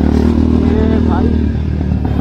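Several superbikes, including a new second-generation BMW S1000 RR alongside a G800 and a Mojo, ride together on a road toward the highway, their engines droning steadily and loudly throughout, with speech over the top.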